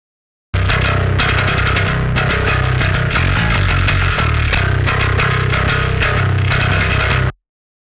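Bass guitar played through a Darkglass Alpha Omega Ultra preamp with no cabinet simulation, loud, gritty and distorted with sharp pick attacks in a steady rhythmic riff, alone until it stops abruptly.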